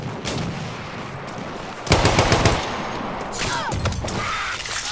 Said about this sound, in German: Ist ein Gegner, der schießt, oder?